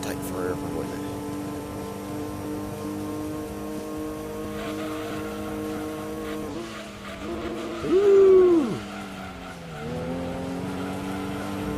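A Volkswagen Golf's engine drones steadily through a Gran Turismo 2 Euro League race, with harmonic revving that dips and climbs through gear changes and a brief louder tire squeal near the end, under someone talking.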